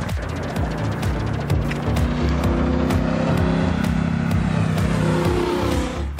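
A Triumph Bobber motorcycle, its Bonneville T120-derived engine with 106 Nm of torque, accelerates hard, a loud close rumble with a rising, continuous engine note and no speech over it.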